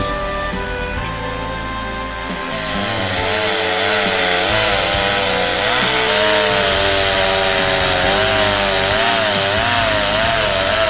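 A chainsaw roars steadily as it cuts through a fallen tree, its engine pitch rising and wavering as the chain bites into wood, loud and close throughout.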